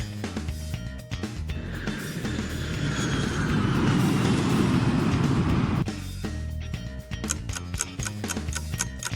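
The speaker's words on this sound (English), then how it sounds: "This is the sound of an airplane." Airplane noise swells into a broad, rushing roar for several seconds in the middle, while a steady ticking pulse plays before and after it.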